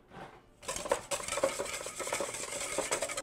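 A vinaigrette with fresh oregano leaves is whisked briskly in a bowl to emulsify it, giving rapid, rhythmic metallic clinks and stirring scrapes up close, with no talking.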